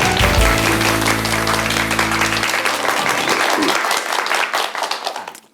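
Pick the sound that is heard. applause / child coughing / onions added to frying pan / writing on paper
applause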